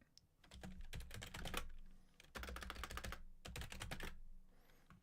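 Rapid clacking of keys on a computer keyboard, typed in quick uneven bursts with brief pauses between runs, close and clear with no talking over it.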